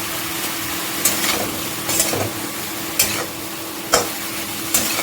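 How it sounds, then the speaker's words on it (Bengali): Bottle gourd stems and raw banana sauté with spices and green chilli in a little oil: a continuous sizzle broken by rhythmic spatula scrapes about once a second, close and fairly loud. "এইভাবে সব মশলাগুলোর সঙ্গে লাউ ডাগাটা আর এই কাঁচা কলাটা একটু ভালো করে কষিয়ে নেব"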